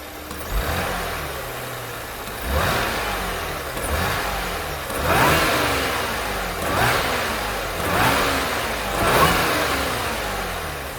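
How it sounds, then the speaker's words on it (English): Supercharged 2010 Audi B8 S4 Quattro with a six-speed manual and stock intake, revved repeatedly in about five evenly spaced throttle blips that climb and drop back to idle, heard close with no talk. "So that's what the stock intake sounds like."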